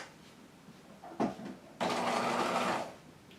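A sewing machine stitching a jacket's upper collar and facings, with a brief whir, then a steady, loud run of about a second before it stops, no voices.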